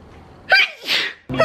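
A single loud, close human sneeze, with a sharp inhaled catch and then a forceful burst, followed by a brief vocal sound at the end.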